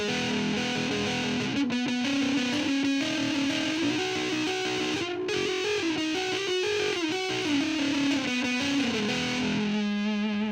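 A heavily distorted electric guitar plays through a KOKO KH8 high-gain distortion pedal, sustained gritty chords and riffs, loud and continuous with a fuzzy, saturated tone and no voices.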